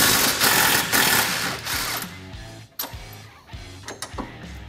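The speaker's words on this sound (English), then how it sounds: "I always like to remove the nut with the impact." Impact wrench spinning a nut off a lower A-arm bolt on a Polaris Ranger XP1000, a loud rattling hammering burst that stops, followed by short ratcheting bursts and clicks.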